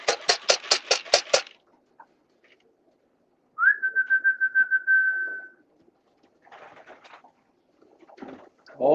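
A rapid burst of about seven sharp chirps, then a single sustained whistle, followed by quieter scattered bird calls and rustling in a quiet setting.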